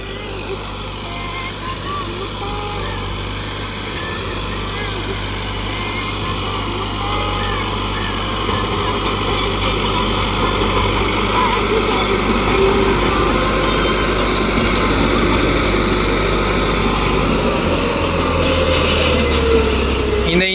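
A Farmtrac 6065 tractor with over 8000 hours on its engine runs steadily while pulling a heavy cultivator, a loud continuous low drone that builds slightly partway through, with someone talking over it.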